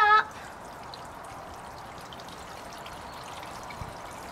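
Water pours in a steady, gentle stream into a small garden wildlife pond, a soft trickling wash, fairly quiet and continuous after a brief opening noise.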